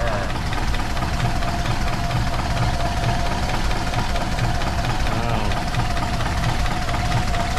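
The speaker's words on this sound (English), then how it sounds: "Oh man, it idles so low." A hot rod engine idles low and steady, a continuous deep rumble with a faint knocking beat running the whole time, close and loud, while people talk over it.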